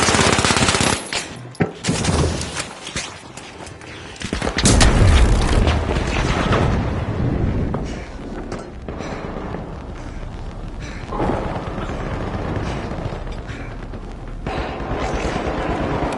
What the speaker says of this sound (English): Outgoing gas grenade!